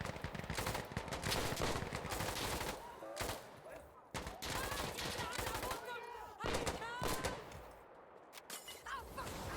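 Gunfire in Battlefield Insurgency gameplay: repeated bursts of rapid automatic shots crackle loudly, broken by short pauses between volleys.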